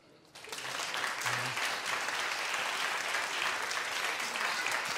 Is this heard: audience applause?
yes